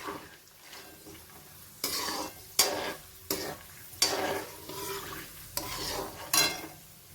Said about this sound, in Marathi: ह्याच्या ह्याच्यातच खोबऱ्याचे काप आपले छान तळून होतील